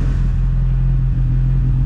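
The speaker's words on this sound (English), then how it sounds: "Listen to this exhaust a little bit." A D2B-swapped Honda Civic EG hatchback idles on dyno day, its exhaust giving a deep, steady, loud rumble close by with a faint lumpy pulse and no talking.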